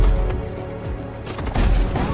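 Enemy storm cannon fire in the space strategy game Void War, several booming blasts in quick succession with low thuds and rumbling between them.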